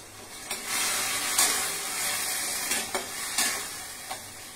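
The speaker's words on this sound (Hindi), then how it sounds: "अभी थोड़ा कड़ी पत्ता ऐड करते हैं." Curry leaves hit hot oil in a home kitchen and sizzle loudly up close, a dense steady crackling hiss with a few sharp pops and stirring scrapes.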